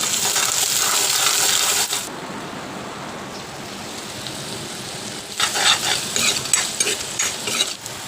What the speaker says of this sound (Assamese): এতিয়া ফ্ৰাই খামটো জলকীয়া, ভোট জলকীয়া